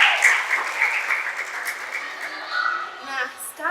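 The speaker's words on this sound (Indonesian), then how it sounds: "Sekarang kita kasih tepuk tangan dulu dong buat Arshila." An audience claps and applauds warmly, with steady clapping, and a voice speaks over the applause.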